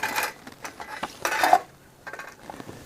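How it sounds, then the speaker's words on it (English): A plastic oil drain pan is shifted under a 2013 VW Jetta TDI Sportwagen 2.0 diesel during an oil change: scattered scraping, sliding and clattering knocks, close and intermittent, with brief bursts of louder rattling. "now get your oil pan out of the way"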